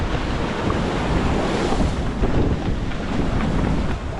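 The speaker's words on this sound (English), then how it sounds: "We're definitely seeing some 3-meter waves out here." A sailboat rides three-meter ocean swells on the open Pacific between Hawaii and California, with loud, continuous wave wash and surf mixed with blustery wind buffeting the microphone.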